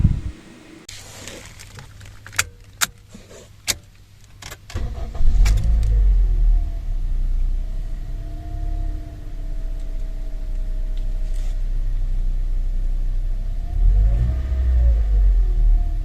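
A few sharp clicks and knocks, then a 2022 Toyota Corolla Altis 1.6 petrol engine starts and idles with a low steady rumble, rising briefly as it revs near the end.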